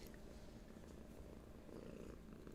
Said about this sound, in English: Just purring? Just purring?